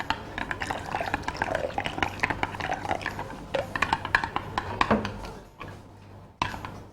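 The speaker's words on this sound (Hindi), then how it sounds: "इसमें थोड़ा सा मैं पानी ऐड करूँगी।" Water poured and stirred into thick yogurt in a bowl in a home kitchen, a steady run of wet spoon scrapes and sloshing close by, ending with a few sharp clinks.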